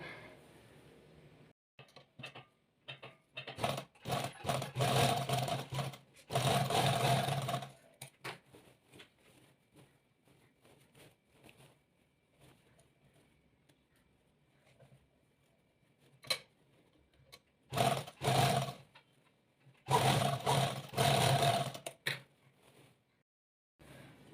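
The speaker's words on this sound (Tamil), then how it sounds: "அதுக்கு முன்னாடி இந்த 4 பக்கமும் லாக் ஸ்டிச் போட்டுக்கோங்க." Sewing machine running lock stitch along the edges of salwar pant fabric in several bursts of steady mechanical whirring, separated by quieter pauses with small handling clicks.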